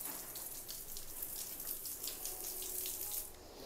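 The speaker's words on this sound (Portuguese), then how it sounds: "Agora só jogue água pra cá, não jogue água pra lá pra não molhar tudo." Water splashes and runs in a continuous faint wash while an outdoor area is being cleaned, a steady spattering hiss with no talking.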